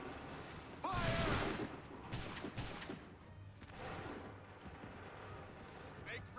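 Massed musket volleys in the Assassin's Creed III video game, a loud ragged crack of gunfire followed by several further bursts and rumbling echoes, with shouted orders underneath.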